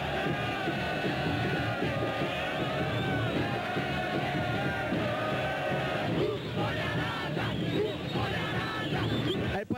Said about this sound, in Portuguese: essa aqui é a torcida que vai agitar, olha aí